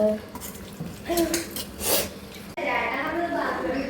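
Chicken kondattam is stirred with leaves in a metal pan, giving scraping and clinking of a utensil against the pan close by, with a voice talking over it.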